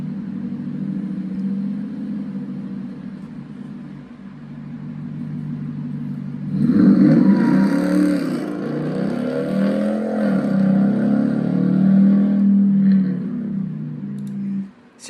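A Dodge truck's 4.7L Magnum V8 with the muffler cut off, idling with a loud, deep exhaust burble before revving up sharply and surging, then settling back, close and alone.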